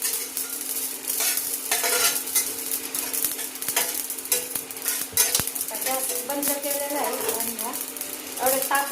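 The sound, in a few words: dry roasting coriander seeds in a pan on low gas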